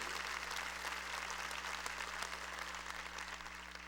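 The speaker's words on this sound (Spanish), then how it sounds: "Démosles un aplauso también a ellos de bienvenidos" A church audience bursts into dense, steady applause that fills the room, with many hands clapping at once and a low electrical hum underneath.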